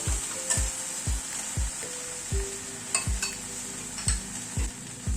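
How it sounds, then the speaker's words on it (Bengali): Spice masala being fried and stirred in a pan, a constant sizzle punctuated by regular, sharp spatula knocks and metallic clinks against the pan, close and clear with no talking. "মশলাটাকে এবার একটু কষিয়ে নেব"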